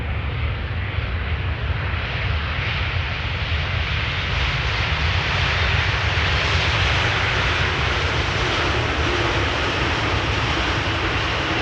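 A jet airliner lands on runway 18R Polderbaan at Amsterdam Schiphol Airport, its engine roar and rumble loud and steady throughout, swelling slightly toward the middle without any talk.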